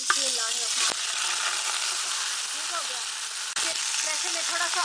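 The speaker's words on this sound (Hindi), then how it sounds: "सबसे पहले हम इसमें बीफ ऐड करेंगे" Beef pieces dropped into hot oil in a pressure cooker sizzle and fry steadily for the whole stretch, a loud broadband crackle with brief stirring clatters and faint talk in the background.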